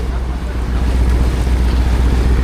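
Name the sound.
boat engine running continuously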